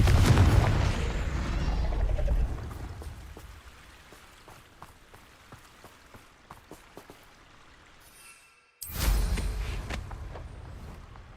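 An explosive Confringo blast in Hogwarts Legacy: a loud booming burst at the start decays into crackling debris, then a second sharp burst follows after a brief silence.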